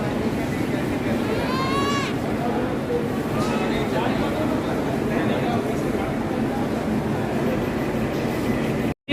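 A train rumbles at a busy Indian railway station, a steady low drone with squeals and clanks on top while people talk close by throughout.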